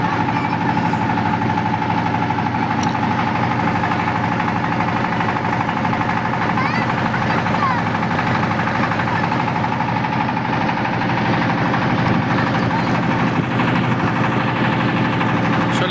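A boat's steady engine drones continuously at constant volume throughout, a low rumbling hum with no pauses.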